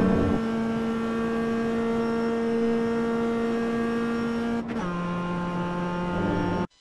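Mazda MX-5 Roadster race car in iRacing at Laguna Seca, its engine holding a loud steady drone near the corkscrew, dipping briefly in pitch as the throttle lifts, then droning on at full power before cutting off abruptly.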